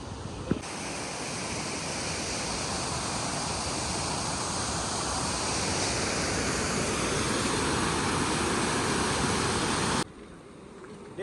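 Ghaggar river water flowing near the Chandpura embankment with a canal crossing above, a loud, steady broadband rush that cuts off abruptly near the end.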